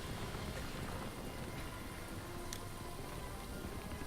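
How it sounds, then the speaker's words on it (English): Steady rain in the Shadow of the Colossus video game, a constant broadband hiss of falling water that fills the whole stretch evenly with no talk over it. "it is really raining outside"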